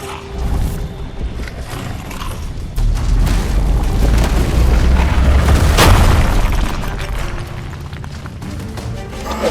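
A rock explosion spell goes off in the fantasy game RuneScape: Dragonwilds, a loud, heavy rumbling boom that swells to a sharp crashing burst midway before rolling off, with no talk over it.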